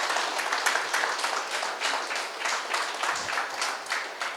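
Applause from an event audience at a Cosmic Valley celebration in Khammam, a steady wash of clapping hands lasting about four seconds at moderate loudness with no talking over it.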